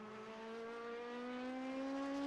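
A 4.2 litre V8 prototype race car engine in the iRacing game drones in one steady, loud, rising note as it accelerates smoothly over a couple of seconds.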